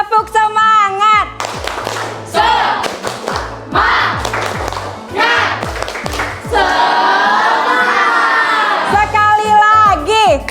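Rhythmic group clapping pattern by a class of schoolchildren standing for a spirit-clap ice-breaker, sharp patterned claps with thumps, mixed with shouting and chanting voices, building to a sustained loud crowd cheer near the end.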